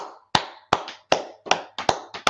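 A class claps hands together in several sharp, separate bursts that ring out clearly in a room with no talk over them.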